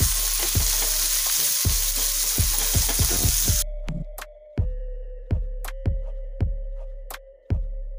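Onion frying in oil: a bright crackling sizzle punctuated by regular spoon knocks, then the hiss drops away, leaving a low hum and sharp intermittent taps.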